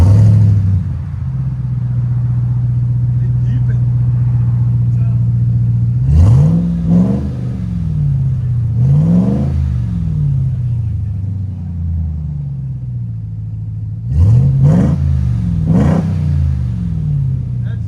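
RAM TRX pickup V8 engine fitted with Carven TR stainless steel exhaust, idling with a deep steady burble, then snapping through several sharp revs in two separate bursts before settling back to idle.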